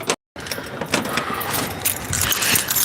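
Car keys jangling close by, a loud metallic rattle that runs almost continuously after a brief silent break at the start.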